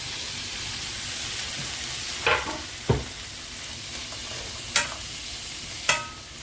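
Tomato going into a frying pan for green peas kurma, a low steady sizzle broken by four sharp clacks of a spoon against the pan, close and with no talking.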